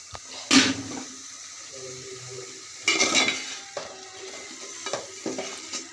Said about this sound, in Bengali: এখন এর মধ্যে আমি ফুলকপি দিয়ে দেব। এটা এখন আমি একটু ভালো করে কষিয়ে নেব।